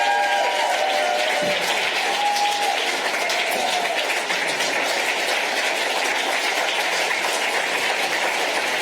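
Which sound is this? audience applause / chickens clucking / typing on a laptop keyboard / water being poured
audience applause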